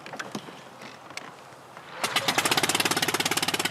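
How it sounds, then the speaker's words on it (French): A 1949 Tigre engine on an old plane starts with scattered clicks and sputters, then catches after about two seconds into a steady, rapid, loud mechanical chugging. "Mise en route, le moteur Tigre de 1949 est très susceptible"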